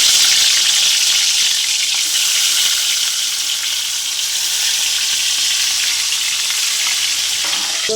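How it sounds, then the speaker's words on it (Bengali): Pieces of boal fish frying in hot oil in a kadai, a loud, dense, continuous sizzle close by with no break and no voices. "তেল গরম হয়ে গেছে, মাছগুলো ভেজে নেব।"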